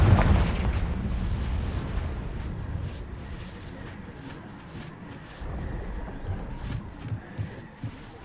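A Confringo spell explodes in Hogwarts Legacy, a heavy booming burst up front followed by a rumbling, crackling tail that fades over several seconds, with soft game ambience underneath.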